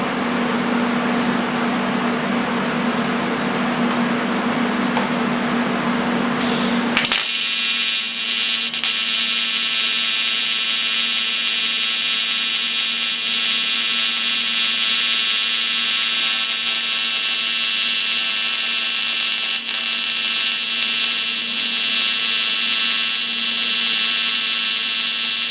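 A Lincoln TIG 200 Squarewave welder runs on aluminum with a steady electrical buzz and hum, a harsher crackling layer in the first seconds giving way to a constant tonal whine that holds close and loud throughout.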